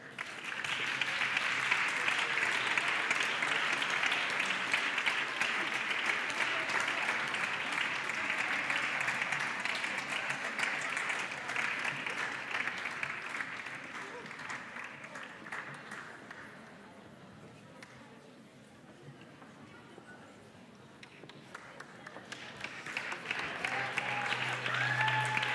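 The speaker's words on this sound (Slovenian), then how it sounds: "En aplavz." An audience at a children's choir festival awards ceremony applauds at length, steady clapping that slowly fades, then swells again near the end.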